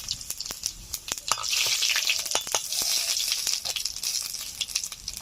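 Bay leaves and whole cumin sizzle in hot mustard oil in a pan, a steady crackling fry with sharp pops throughout, close and fairly quiet with no talking.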